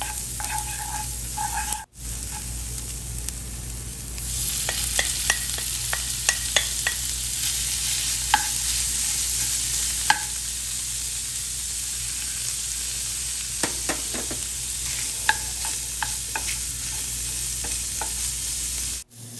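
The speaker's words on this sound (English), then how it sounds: "we need to saute it for a few minutes before adding the ground beef" Minced onions sizzling steadily in a heated pan, with a continuous frying hiss broken by scattered clicks and scrapes of stirring, close and moderately loud throughout, no voices.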